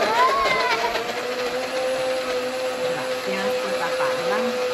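A blender runs steadily, mixing milk and ice cream into a malted milkshake. The motor keeps a constant whir throughout while people talk faintly.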